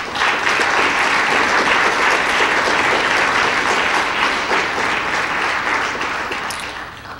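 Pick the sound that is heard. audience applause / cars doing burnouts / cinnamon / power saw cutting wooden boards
audience applause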